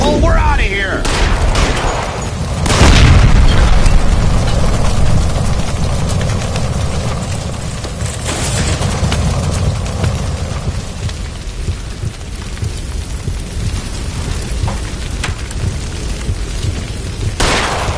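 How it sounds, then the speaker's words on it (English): A gas line explodes in the L.A. Noire video game, giving a loud deep boom followed by a long rumbling, crackling roar with scattered bangs, and voices are heard briefly under the blast. "Look, by the stove! Shoot the gas line, Cole"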